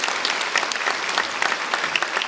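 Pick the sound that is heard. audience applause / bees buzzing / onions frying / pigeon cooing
audience applause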